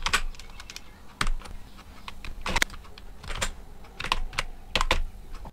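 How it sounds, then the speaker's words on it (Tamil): Tamil text is typed on a computer keyboard running Windows XP, heard as bursts of close, crisp key clicks in an uneven rhythm with brief pauses between runs. "இப்போ நான் வந்து டைப் பண்ணுறேன்."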